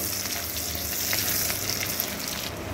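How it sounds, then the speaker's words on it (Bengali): Garlic and chopped onion fry in oil left over from frying fish, giving a steady, close crackling sizzle with occasional small pops and no voices. "এই মাছ ভাজা তেলের মধ্যে আমি রসুনটাকে দিয়ে দিলাম, আর সাথে আমি যে কুচিয়ে পেঁয়াজগুলো রেখেছিলাম সেই পেঁয়াজ কুচিটাকেও দিয়ে দিলাম।"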